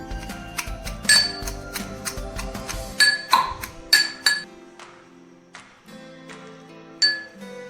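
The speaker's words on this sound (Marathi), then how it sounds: "आपण आता लसूण आणि भाजलेली मिरची खलबत्त्यामध्ये काढून घेऊ" Garlic and roasted chillies pounded in a mortar and pestle for Khandeshi brinjal bharit, a series of sharp ringing metallic strikes and clinks, close by, irregular, thinning out toward the end.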